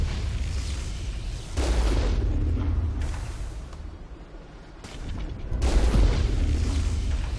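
The Mako tank's cannon fires in Mass Effect: two heavy booming blasts a few seconds apart, each trailing into rumbling mechanical noise, with a quieter stretch between them.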